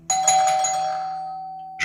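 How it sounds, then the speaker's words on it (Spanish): A single doorbell chime rings near and clear at a house door, a bright tone struck once and left to decay slowly, followed by a second brief strike at the end. "Voy a la puerta, toco el timbre."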